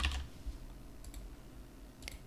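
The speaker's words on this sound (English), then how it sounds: "So you can just start typing." A few scattered clicks of typing on a computer keyboard, close and light, separated by quiet gaps.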